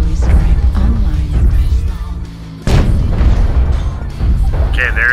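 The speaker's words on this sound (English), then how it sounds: "Target acquired. Artillery strike online." An artillery strike in a video game lands as heavy booming blasts, with a deep rumble and a sharp crack near the middle, all mixed under other game noise.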